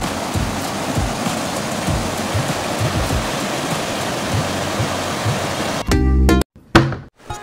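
Mountain-fed river water rushes steadily and loudly, a broad continuous roar, with a few thumps and handling bumps near the end.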